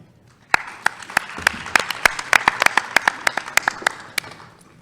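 Scattered, distinct hand claps from a small audience at a startup pitch event in Silicon Valley, each clap sharp and separate over a faint room background, building into steady moderate applause.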